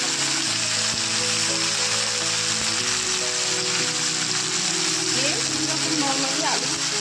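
Potato, eggplant and onion pieces fry in oil in a pan with a steady, loud, continuous sizzle, close by, while a voice talks over it.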